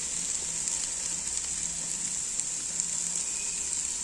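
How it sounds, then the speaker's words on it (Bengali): Two eggs drop into a cabbage curry frying in a pan, a steady close sizzle of hot oil running throughout with faint stirring scrapes and no voices. "আমি এখন ডিম 2টি এর ভিতরে দিয়ে দিব।"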